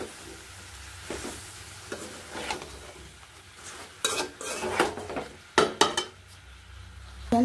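Eggplant added to a hot frying pan and stirred, with gentle sizzling throughout and a run of clattering spatula scrapes and clinks against the pan in the second half, no talking.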